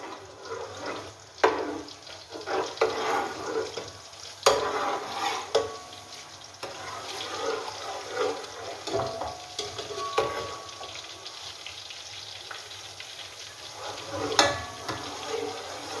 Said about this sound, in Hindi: ये अब आपको अगर आवाज़ सुनाई दे रही हो तो ये इसके भुनने की आवाज़ आ रही है।